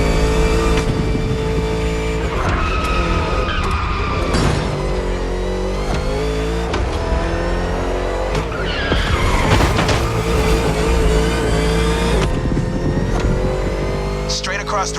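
A car engine drives hard through The Crew Motorfest, steady and loud throughout, with tire skids, revving, and overlapping game music and a voice mixed in.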